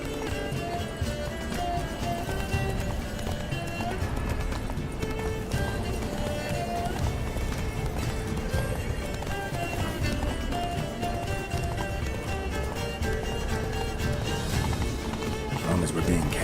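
Horse galloping in The Witcher 3, a continuous rapid clip-clop of hooves under game music and ambience, steady and fairly loud throughout with a brief whinny.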